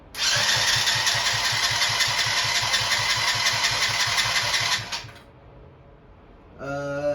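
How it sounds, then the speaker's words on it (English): A 50cc Kazuma Firehawk Chinese quad engine cranks steadily with a rhythmic starter-motor chug for about five seconds, loud and close, then stops, followed by a brief quiet and a short tonal sound. "as soon as I strike this, you should hear it turn over"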